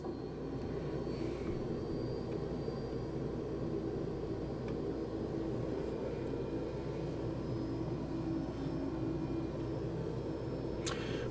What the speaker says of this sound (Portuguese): a gente está num King Air